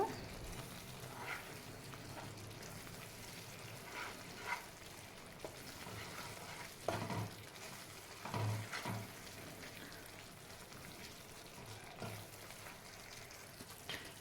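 Coconut laddu mixture stirred in a pan on low flame, a faint soft sizzle with scattered scraping and tapping of the spoon, close but quiet.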